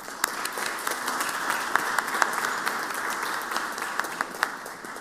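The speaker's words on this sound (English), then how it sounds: "If y'all would please give them a round of applause." Steady applause from people gathered in a state Senate chamber, a dense wash of many hands clapping evenly for the full five seconds with a few sharper claps standing out, moderately loud and with no speech.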